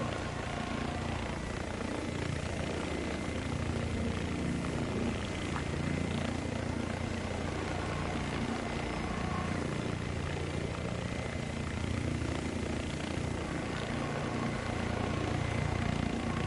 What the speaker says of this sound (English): Is that my rotor blades making that noise?